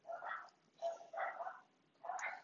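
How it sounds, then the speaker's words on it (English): Dog barking and whimpering in the background, several short bursts in an uneven rhythm, fairly faint and distant, with no talking over it. "sorry if you can hear the dog noises."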